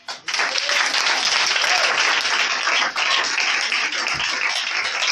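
A church congregation breaks into sustained, loud applause that fills the room, dense and steady throughout with a brief dip partway, and a faint voice rises under the clapping.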